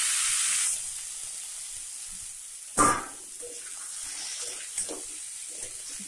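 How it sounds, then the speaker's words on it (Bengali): Vegetables for a vegetarian samosa filling tipped into hot oil already sizzling with tempering spices, with a loud hiss at first that settles to a steady frying crackle, a sharp splashy burst midway and smaller spits after. "গরম হয়ে গেছে, ফোড়নগুলো হয়ে এসছে, এবার আমি আনাজগুলো এর মধ্যে দিয়ে দেবো।"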